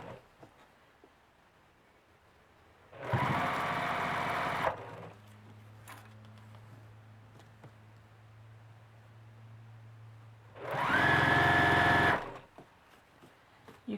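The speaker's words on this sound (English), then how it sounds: "Now I'm going to sew this down." An embroidery machine stitches down fabric for an in-the-hoop girl bunny, with two loud bursts of whirring stitching separated by a quieter stretch of low humming.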